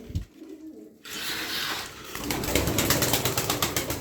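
Erzurum white tumbler pigeons coo near the microphone, with soft repeated calls over a steady rhythmic ticking and rustling in the loft.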